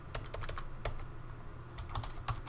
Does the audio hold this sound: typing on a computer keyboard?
yes